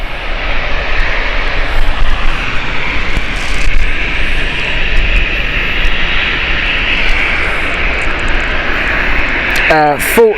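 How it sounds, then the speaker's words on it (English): A British Airways Boeing 777-200 departs Gatwick with a loud, sustained broadband jet roar that holds steady throughout, ending with a brief sharp noise burst near the close. "This is BA9 Victor Alpha 777-200."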